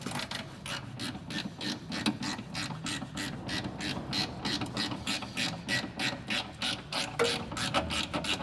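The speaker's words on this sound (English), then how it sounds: "Top bolts out, the shockers now." Rapid, steady clicking of a ratchet undoing the top bolts of VW T5 shock absorbers during a coilover fit, close and continuous for several seconds with no talking.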